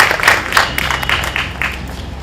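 An audience at a drama academy event claps together, producing a burst of moderately loud applause with individual claps audible as the clapping swells and then eases off.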